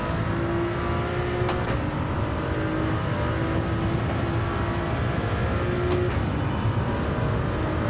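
A Toyota Supra engine in the Gran Turismo 7 racing game, droning loud and steady at high revs with small pitch shifts through a turn, no talk over it.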